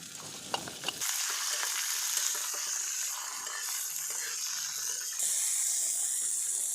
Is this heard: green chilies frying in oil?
yes